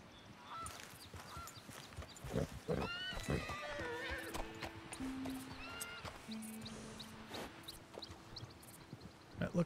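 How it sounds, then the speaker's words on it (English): Loud, agitated horse neighs and snorts from Red Dead Redemption 2 come in bursts, with honking calls mixed in over a busy outdoor ambience. "That horse is certainly upset about something"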